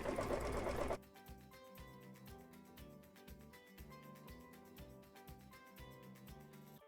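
Sewing machine stitching a letter K in black, gray and white variegated thread, a quiet, even run of rapid mechanical stitches after a brief louder burst at the start.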